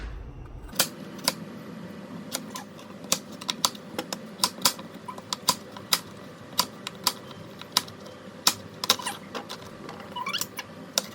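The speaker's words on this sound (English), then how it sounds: "potato we need to chop them very small" Knife chopping potatoes into very small pieces on a board, a steady run of sharp close taps with a faint background hum, no talking.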